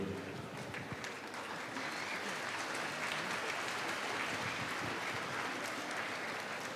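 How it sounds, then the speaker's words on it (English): An audience applauds at a gathering honouring His Holiness, a steady, even wash of many hands clapping that fills the whole stretch at moderate distance, with no voice over it. "give another round of applause"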